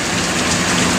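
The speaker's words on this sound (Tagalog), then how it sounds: "Ayan guys, ang lakas ng ulan oh." Heavy tropical rain pours beside the Pasig River, a loud, dense, unbroken roar of water striking surfaces close by, with no voices in this brief moment.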